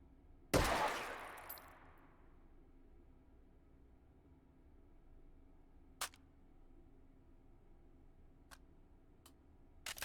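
A single loud rifle shot from an AK or M16 in the H3VR virtual reality shooting game rings out and decays, followed by a few faint clicks in near silence.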